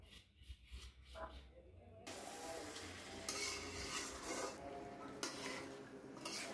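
Roughly a kilo of goat meat is stirred in a pot over medium heat, with quiet scraping and clinking from the utensil over a faint sizzle.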